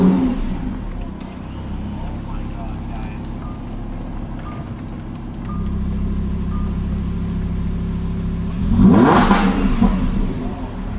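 A Lamborghini hypercar's engine hums at idle, then swells into a loud, close rev near the end, with people talking around it.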